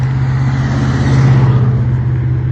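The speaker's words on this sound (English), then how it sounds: "That red car is getting to the intersection right now." A red car drives up to an intersection, its engine a steady, close, low drone with a constant rumble throughout and no voices.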